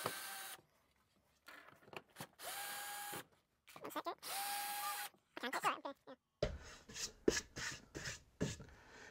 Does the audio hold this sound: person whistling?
no